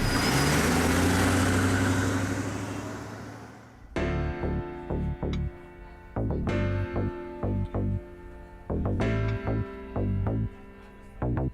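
A car engine runs loudly and steadily for about four seconds, then fades away as music takes over.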